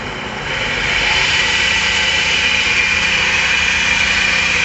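A mini lathe motor starts up and then runs steadily at low speed, around 30 RPM, with a constant close whine and hum and no talking.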